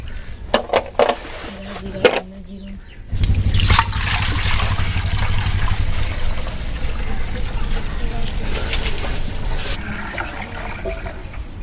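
Sugar water is poured into freshly squeezed lemon juice in a home kitchen, giving a steady, close trickle and splash that runs for several seconds after a few clinks and handling sounds.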